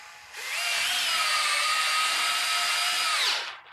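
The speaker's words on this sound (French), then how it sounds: "on vient visser directement" A power drill drives screws into fittings in a utility van. The close, loud, steady whine runs for about three seconds, then winds down.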